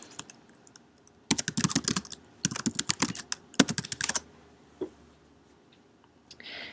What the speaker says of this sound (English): you can type that question into Time to Track's help bar.